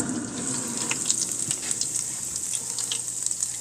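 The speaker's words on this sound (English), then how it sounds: "Beef ribs in the Cosori air fryer." Beef ribs sizzle in a Cosori air fryer with a soft, steady crackle and a high hiss, broken by scattered small pops. The sound is quiet and close, with no voices.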